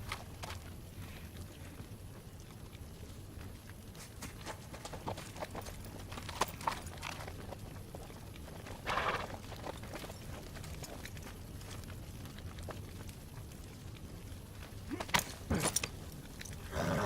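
Horse hooves clip-clopping at a steady walking pace, fairly faint and distant over a low ambient rumble, with occasional louder knocks and rustles.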